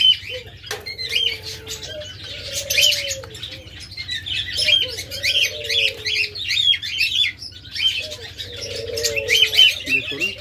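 Diamond doves at a sale call with soft, repeated low coos, mixed with busy chirping and squawking from many other caged birds and occasional wing flutters nearby.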